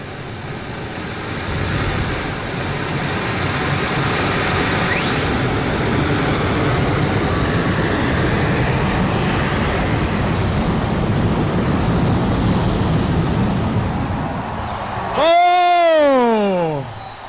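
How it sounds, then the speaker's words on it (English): A twin turbine engine powered dragster called Dragon Lady runs at a farm machinery show tractor pull, a loud sustained jet roar with a rising whine. A doppler sweep passes near the end, and an announcer talks over it. "We'll see if Dusty can do it in the twin turbine engine powered Dragon Lady."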